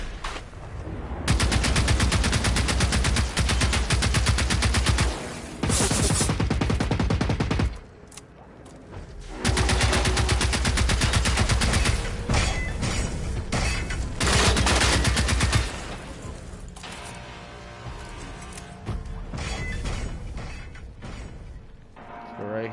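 Rapid bursts of automatic gunfire from a video game weapon built for part damage, fired at a giant creature in a PS4 Pro shooter; loud sustained volleys with short pauses between them, no talking.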